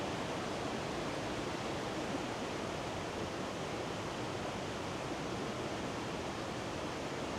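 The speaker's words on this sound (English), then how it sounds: "So much noise pollution with the water." Water rushes in a woodland stream at Kennall Vale, a loud steady broadband roar with no breaks from start to finish.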